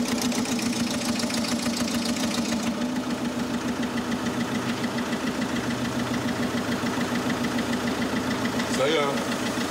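A car engine starts and runs steadily with a knocking, rattling idle throughout, in an unlicensed backstreet garage, with some voices mixed in underneath.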